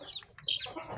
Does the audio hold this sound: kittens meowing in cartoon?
no